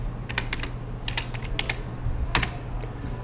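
Someone types a folder name on a computer keyboard, producing a few quick clusters of crisp key clicks separated by short pauses, close and clear over a faint background hum.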